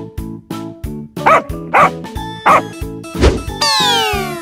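A cartoonish dog barks in a quick series of about five to six loud woofs over a bouncy, repetitive synthesized backing tune, ending with a rising musical sweep.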